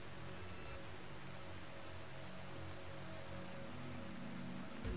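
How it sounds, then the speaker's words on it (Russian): Steady rain falls at night in the colony-building game RimWorld. It is a faint, even hiss of rainfall that runs unbroken throughout, with no voices. "Ходит под дождем в ночи."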